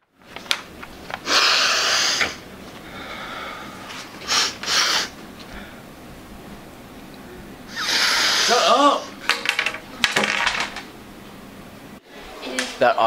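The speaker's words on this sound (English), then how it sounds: "When you can't stop sniffling during a test." A high school student in a classroom during a test sniffles repeatedly, with several short, sharp nasal bursts separated by quiet pauses.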